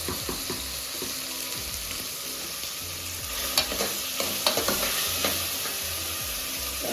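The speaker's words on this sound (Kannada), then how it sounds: "ಮಶ್ರೂಮ್ ತಗೊಂಡು ಮಶ್ರೂಮ್ ಫ್ರೈ ಮಾಡಬೇಕು" Mushrooms frying in a pan, a steady close sizzle with occasional stirring clicks and scrapes, no voices.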